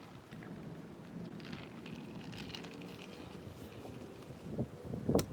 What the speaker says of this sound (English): Yeah, these thunder strikes, man.